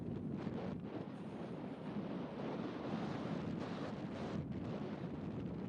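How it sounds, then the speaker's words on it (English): Strong wind roars and buffets steadily across the recording at a disc golf tournament, a dense rushing noise with gusty fluctuations and no voices. "That'll give you a good indication of how windy it is right now."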